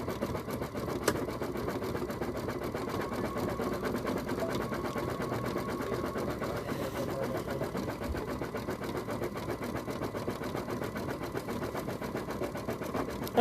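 An embroidery machine stitches out a snowman coaster, a steady fast mechanical hum and rapid needle patter continuing evenly at moderate level throughout.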